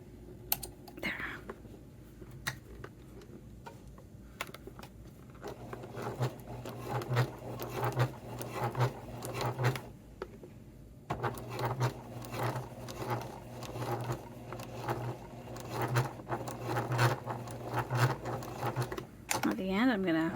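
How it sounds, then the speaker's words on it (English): Home sewing machine stitching through the thick layers of a handmade Allegra wallet, bursts of rapid mechanical needle chatter with brief pauses, close and fairly quiet, with soft talk at moments. "My machine does not always like back stitching when it's thick"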